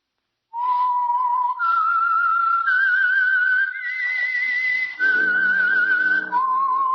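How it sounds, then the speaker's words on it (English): Theme tune of the radio program The Whistler, whistled as a clear, loud solo melody of sustained, slightly wavering notes that step up and down in pitch with brief breaks, with a faint musical accompaniment entering partway through. "That whistle is your signal for the Signal Oil program, The Whistler."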